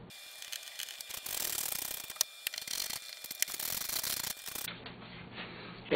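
Screws being driven into a frame during installation, heard as close mechanical whirring and ratcheting with a few sharp clicks, fairly quiet, ending in a short pause and some soft rustling.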